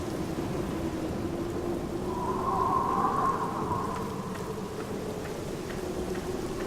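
Steady rain falls with a low, distant rumble of thunder swelling in the middle, a quiet stormy ambience from the video game The Black Mirror.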